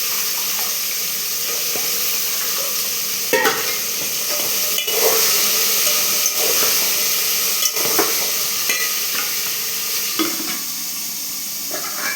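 Black chickpeas are stirred in a frying pan under a steady, close sizzle, with periodic scraping strokes of the spoon throughout.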